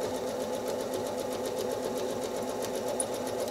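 A home sewing machine runs fast and steady while free-motion quilting a circles-and-echoes design in a house block, its motor a continuous whir with rapid needle ticking throughout, close and alone.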